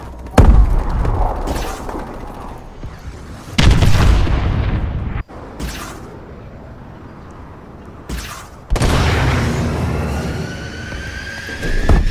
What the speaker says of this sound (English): Enemy missile strikes incoming!